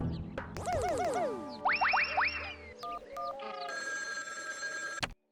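An old-style telephone bell rings loudly in repeated bursts with cartoonish warbling boings, followed by a steady electronic tone that cuts off abruptly.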